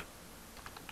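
Quick, light taps on a computer keyboard, a few close clicks arriving in an irregular burst over a low steady background hiss.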